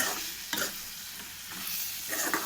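Onion and tomato sautéing in oil in a pan, a steady soft sizzle with a few brief scraping stirs, close and fairly quiet with no talk.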